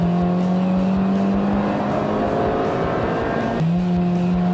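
A 2016 Honda Civic Type R pulls hard in second gear through the Nürburgring carousel. The engine note is loud and steady and climbs in pitch, then drops briefly at an upshift before rising again, with road rumble underneath.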